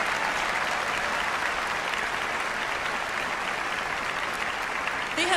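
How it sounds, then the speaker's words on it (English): An audience applauds the UBC Choral Union choir at a university graduation recital, a dense, steady wash of clapping that fills the whole stretch alone with no voices over it. "give a big round of applause to the choir standing behind me"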